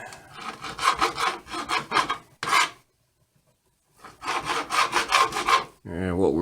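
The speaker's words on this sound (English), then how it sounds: "take 2 slices of bacon here. I'm just going to kind of cut this into little bitty pieces" Knife sawing through two bacon slices to cut them into small pieces for sautéing with onions, a series of close, loud rasping strokes in two bursts separated by a short pause.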